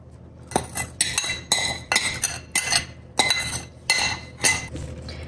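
Thai beef salad is tossed with dressing, producing a quick rhythmic series of about eight clinks and scrapes of utensils against a bowl, close and fairly quiet.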